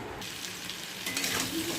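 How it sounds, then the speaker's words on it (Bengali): Steady crackling sizzle of potatoes and pointed gourd frying in oil, close by, growing a little louder partway through, with no voices. "এদিকে পটল আর আলু ভাজা বসিয়ে দিয়েছি"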